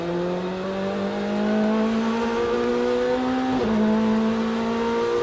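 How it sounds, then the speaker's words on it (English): GT3 race cars, including a Corvette Z06 GT3.R, Ferraris and a Porsche, roar past at speed during the Rolex 24 at Daytona. The engine note is loud and steady and rises through the gears, with a brief break as a car shifts. "Those Ferraris look so quick in a straight line, and he makes his way around the outside of Porsche factory driver Klaus Bachler"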